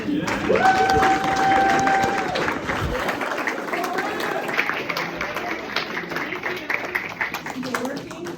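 Audience applause welcoming Ann Manning Martin, a Peabody candidate for Lieutenant Governor, at a spring fling gathering; steady clapping from a crowd fills the room, with a brief whistle or tone near the start and chatter underneath.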